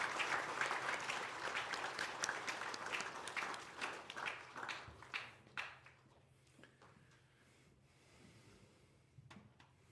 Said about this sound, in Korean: 우리 다시 한번 따뜻한 감사의 박수 우리 목사님과 네 분께 드리겠습니다.